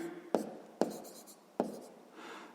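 Pen or pencil scratching on paper while working through a sixth-grade math proportion problem, three quick taps and short scribbles, close and quiet.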